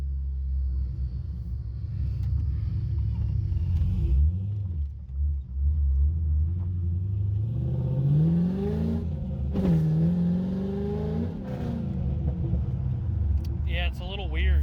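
Pontiac AAR GTO engine rumbling from inside the car while driving, a deep steady growl that swells into rising revs and gear changes midway, loud and close throughout.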